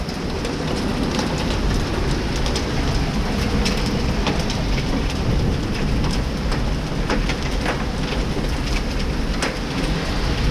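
Heavy rain and hail pelt metal rain pipes in a Winnipeg hail storm with damaging winds, a dense, steady roar of pouring water with scattered sharp ticks of hailstones striking throughout, loud and close with no voices.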